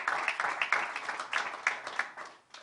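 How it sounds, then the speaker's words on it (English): A round of applause at a pickleball championship press conference, a dense steady patter of many hands clapping with small swells, fading out near the end. "So big round of applause for them."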